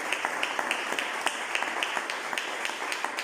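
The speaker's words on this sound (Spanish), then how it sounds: "Dale un aplauso fuerte a Dios" A church congregation claps in a quick, regular rhythm during worship, a dense, steady beat of hands that continues throughout.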